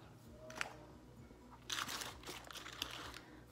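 Someone chews crunchy WingStop chicken wings up close, with quiet crisp crunches and crinkling bites coming in short bursts, a louder cluster arriving midway.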